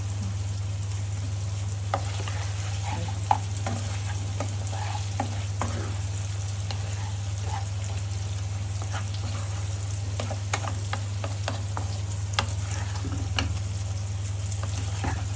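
Dried pomfret shutki and whole garlic cloves fry in oil, giving a steady low sizzle with scattered crackles and pops and occasional stirring clicks, close and continuous with no talking.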